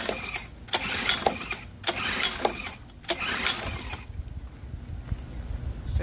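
A Mercury 7.5 outboard motor, choke on and in neutral, is cranked repeatedly: several sharp pull-start bursts with brief sputters in a rhythmic series, close and fairly loud, with no sustained running. A voice speaks briefly.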